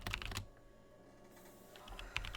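Typing on a computer keyboard during a productivity stream, with quick bursts of clicky keystrokes at the start and again near the end and a quieter stretch between them.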